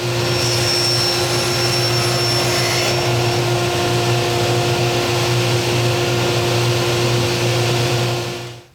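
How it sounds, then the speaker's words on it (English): A table saw rips 1/4 inch walnut into strips in a continuous loud, steady whine with a constant hum throughout, trailing off as the cut ends. "go ahead over to the table saw and rip a couple pieces of that"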